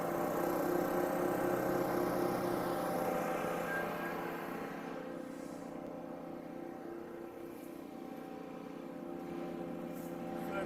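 An All-Power APWC 420E woodchipper engine running at full throttle, a steady loud droning hum with strong harmonic tones that holds throughout.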